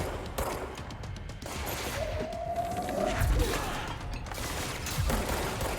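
Video game gunfire in a French action game, with shots and a bright tonal zap rising from a steady dense noisy bed, plus a couple of thuds, no clear individual crack.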